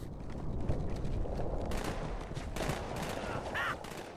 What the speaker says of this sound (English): I was hearing shooting, but I don't see anything